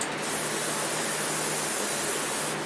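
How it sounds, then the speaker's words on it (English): Lubricant sprays from an aerosol can onto lawnmower parts in one continuous, close hiss lasting a few seconds, with no voices. "I want to go ahead and spray this all down again so that it's not squealing while going down."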